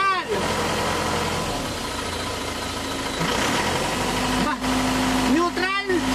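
An Isuzu Traviz engine idles steadily after sitting unused for three days following a drive through floodwater, a continuous mid-pitched running hum with brief tonal whines and a few short dropouts, while people talk nearby.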